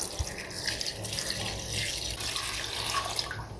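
Water pours into a pressure cooker for deghi-style mutton pulao, about two litres going in, a continuous moderate splashing flow heard close up with no talk.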